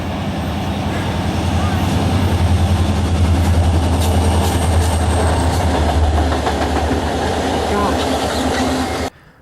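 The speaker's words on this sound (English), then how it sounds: "my dad, brother, and I saw 4 classic diesels as they went underneath the abandoned Lockbourne Road Bridge." Four classic diesel locomotives pass under an abandoned road bridge on a rail line, with a loud, steady engine rumble and rolling rail noise throughout that cuts off abruptly near the end.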